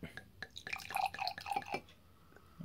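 Wine is poured through an Ecooe wine aerator into a glass in a short trickle of bright, splashy drips and gurgles, close and fairly loud.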